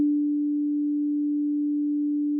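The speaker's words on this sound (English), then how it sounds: "So if I play a sine wave, just have a look at this graph and see what happens." A pure synthesizer sine wave, one steady unwavering mid-pitched tone held at constant loudness for a couple of seconds, with nothing else.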